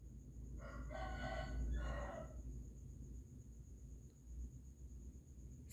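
A rooster crows twice in quick succession near the start, loud and close, over a steady low farmyard rumble and faint background hum from a chicken coop, then only ambient noise remains.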